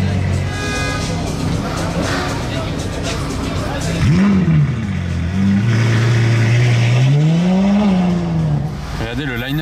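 A Ferrari V8 sports car engine revs up and falls in sweeping pitch climbs, loud and close, while voices talk throughout.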